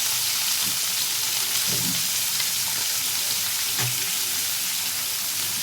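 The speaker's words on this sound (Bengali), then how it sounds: "এবার আমি দিয়ে দেব কেটে রাখা পেঁয়াজগুলো এখানে ছোটো ছোটো করে কুচি কুচি পেঁয়াজ নিয়েছিলাম" Chopped onions frying in oil with cumin and bay leaf, a dense steady sizzle with a few soft stirring scrapes, close and without talk.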